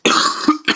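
A short burst of coughing, about three harsh coughs close together, near and fairly loud with no talking.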